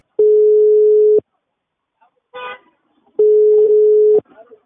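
A telephone line plays a loud steady tone, about a second long, then a short burst of keypad dialing, then a second identical tone after a pause, heard alone without talk.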